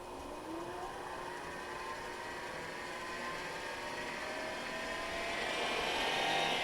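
A Jet mini lathe spins at about 1,000 RPM, making a continuous motor whir with a rising whine that grows slightly louder and higher toward the end, close and without voices.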